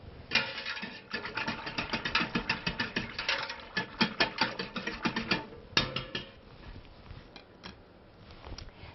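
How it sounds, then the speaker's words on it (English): Rapid rhythmic whisking of low-sugar pectin in a pot to break up lumps while making jam, a steady series of quick scraping and clicking strokes that slows near the end, fairly close and moderately quiet. "I'm going to use a whisk to make sure we get all the lumps gone"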